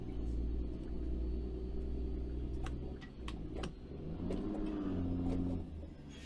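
A heavy truck engine rumbles steadily in American Truck Simulator, with a low, constant drone and a brief revving swell partway through, interrupted by faint clicks.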